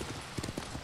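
Horse hooves clip-clop in Ghost of Tsushima, a quick run of faint, soft steps over the game's background sound.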